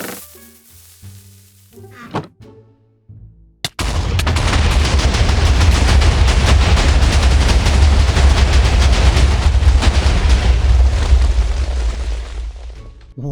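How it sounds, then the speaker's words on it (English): A loud, sustained explosion from a chest trap in Minecraft on a flat desert floor bursts suddenly after a few quiet clicks, then roars and rumbles densely for about ten seconds before fading. "Wow, that explosion is much bigger than I thought."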